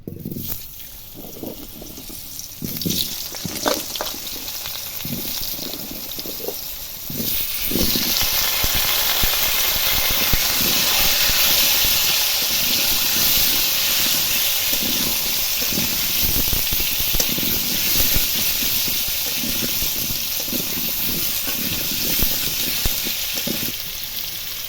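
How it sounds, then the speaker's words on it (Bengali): Potatoes frying in hot oil in a pan used for pangas fish, a steady sizzling hiss that swells louder after the first few seconds and continues evenly throughout, with faint clatter at the start. "আলুগুলো এবার ওই তেলের মধ্যে দিয়ে ভেজে নেবো"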